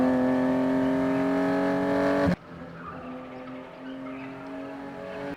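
A car drives past close and loud with a strong engine drone and tire noise, cutting off abruptly partway through to a quieter, fainter rumble that continues to the end.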